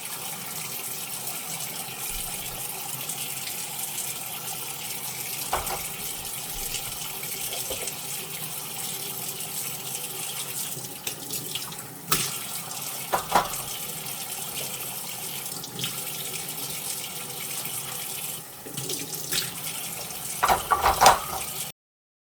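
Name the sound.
tap water running while rinsing wooden kitchen utensils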